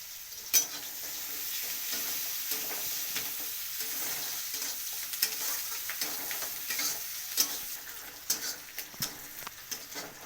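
Chopped onion and chilli fry in a pan, giving a steady close sizzle with scattered stirring scrapes and clicks throughout, and no voices.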